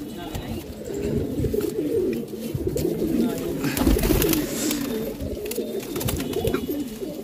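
Pigeons, including Saharanpuri pigeons, coo softly in a loft amid rustling and shuffling nearby, with a voice talking intermittently over them.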